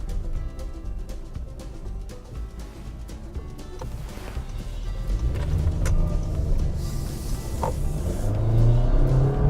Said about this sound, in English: under extreme acceleration, it will actually simulate gears as it did just then, and it sounds like it's changing gears